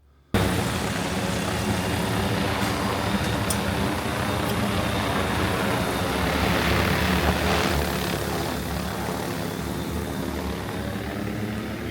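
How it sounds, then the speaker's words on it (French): A cargo drone carrying construction loads flies overhead in Zhangjiajie, Hunan, China, with a loud, steady propeller roar that holds for the whole clip after it starts abruptly. "Pour la construction, c'est livré par drone."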